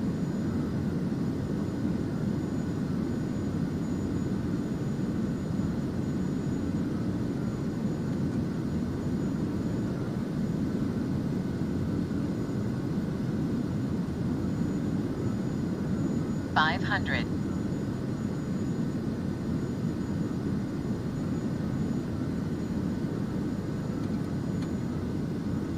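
A Kodiak aircraft's engine in flight in Microsoft Flight Simulator 2024 over Papua New Guinea, a steady loud drone for the whole stretch with one brief chirp partway through.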